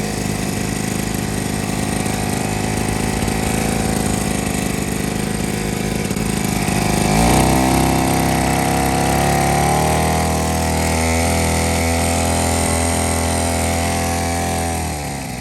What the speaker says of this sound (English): I also decided to get a gasoline-operated water pump for possible emergencies. But it seemed to work best as a noise and smoke generator